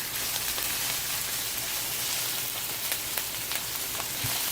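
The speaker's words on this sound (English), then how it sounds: "I'm going to put it in right now, my ground beef that I have here." Ground beef sizzles steadily in a pan for spaghetti and meatballs, a continuous close frying hiss with faint crackles and no talking.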